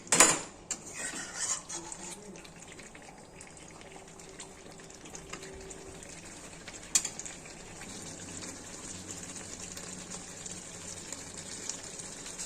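Mutton curry being stirred and fried in a pot, a metal spoon clattering and scraping against the pot with a sharp burst at the start and another near the middle, over a low steady background.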